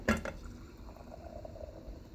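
Brewed tea poured into a glass, a short burst of liquid splashing at the start, then a soft continuous trickle and fill sound close by, with no voices.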